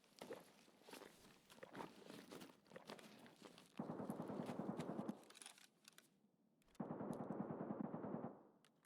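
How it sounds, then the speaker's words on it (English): Gunfire in the shooter game Escape from Tarkov: two sustained bursts of automatic fire, loud and dense, follow a stretch of softer footsteps and movement noise. "There'll be a lot of shooting going on over there."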